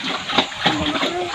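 Water splashes and sloshes as it is poured into a gallon container beside a fish-frying setup, a short uneven gush close by with voices talking over it.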